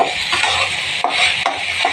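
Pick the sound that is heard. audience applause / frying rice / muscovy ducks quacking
frying rice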